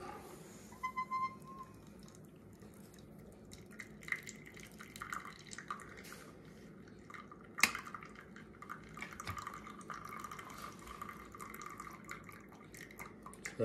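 Excess water trickles and drips quietly as it drains from a Flair 58 espresso maker, with soft splashes and a few small clatters at low volume.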